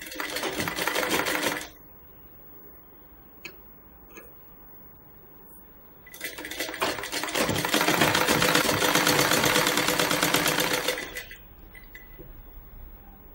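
A sewing machine stitches a blouse hem in two runs, a short burst at the start and a longer steady whirring stretch later, with quiet pauses between and faint handling noise.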